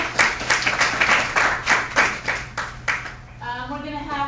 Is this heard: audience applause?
yes